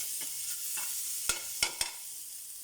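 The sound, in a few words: sautéing garlic in oil for tomato sauce for fish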